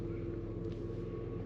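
A Ford Bronco crawls along in first gear off the throttle, a steady low engine rumble and drivetrain hum holding even and close throughout.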